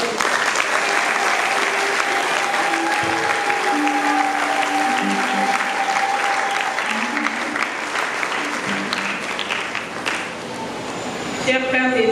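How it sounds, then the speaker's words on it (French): A church congregation at a prayer group's promise ceremony and 40th anniversary launch claps vigorously for a long stretch, with sustained tones drifting underneath and a voice speaking as the clapping tails off. "Nous devons quand même applaudir pour elle."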